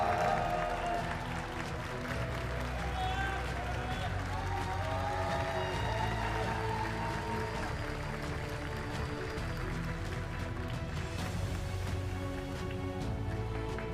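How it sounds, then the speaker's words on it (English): An audience at a Pokemon Go international championship in New Orleans applauds a finalist with steady, moderately loud clapping and crowd noise that continues throughout. "Give it up for our second place finalist, the Torian 22."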